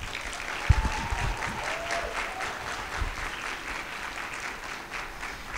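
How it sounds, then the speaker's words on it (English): A luncheon audience gives a round of applause, steady clapping at moderate level after a few sharper nearby thuds at the start. "we'll give a big round of applause for Sharon Berg."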